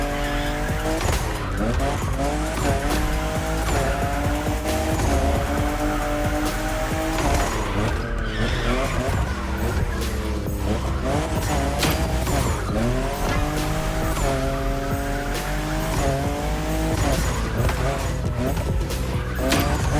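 In the racing game The Crew Motorfest, a fifth-generation Toyota Supra drifts with constant tire squeal and a revving engine that rises and falls, loud and unbroken throughout.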